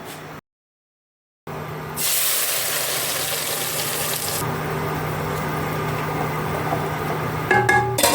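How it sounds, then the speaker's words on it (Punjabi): Masala tempering dropped into hot oil on an outdoor gas burner sets off a loud, steady sizzle and hiss, starting abruptly after a brief silence and running on with a low hum beneath. "ਇਧਰ ਤੇਲ ਗਰਮ ਹੋ ਗਿਆ ਆਪਾਂ ਇਹਦੇ ਵਿੱਚ ਪਾਉਣੇ ਮਸਾਲਾ"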